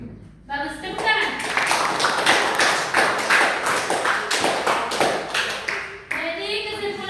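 Students in a high school classroom clap together in a sustained burst of rhythmic hand claps lasting several seconds, with a spoken voice briefly before and after.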